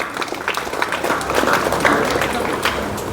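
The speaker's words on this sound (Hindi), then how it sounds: "एक बार जोरदार तालियां" Applause from an audience at a school award ceremony honouring top-scoring students, a steady dense patter of many hands clapping, sustained and moderately loud with some crowd noise mixed in.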